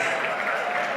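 Audience of nearly 500 at a charity gala applauding, a dense steady wash of clapping filling the whole moment.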